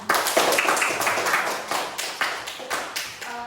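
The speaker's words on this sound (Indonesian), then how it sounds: "Tepuk tangan dulu buat temannya." A classroom of young children claps for a classmate, a quick burst of scattered, fairly close applause that fades out within a few seconds.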